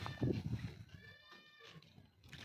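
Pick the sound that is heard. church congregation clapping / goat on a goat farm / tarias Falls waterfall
goat on a goat farm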